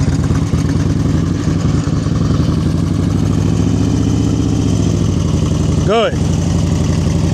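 Motorcycle engine idling and pulling at low speed during slow speed riding practice, a steady throaty mid-range rumble up close, with an instructor speaking over it and a brief sweeping tone near the end.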